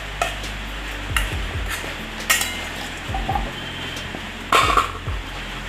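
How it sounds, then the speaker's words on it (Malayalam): Small sweet potatoes dropped one by one into an idli steamer pot holding about four glasses of water, giving several close, separate clunks and knocks against the metal pot with a low steady hum underneath. "നമുക്ക് ഈ മധുരക്കിഴങ്ങ് ഇതിലേക്ക് ഇടാം"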